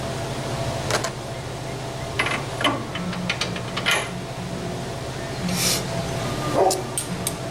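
Several dogs bark and yip, riled up by moving trucks nearby, in scattered bursts over a steady low background hum, fairly close but not loud.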